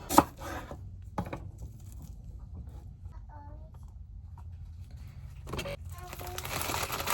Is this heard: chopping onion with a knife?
yes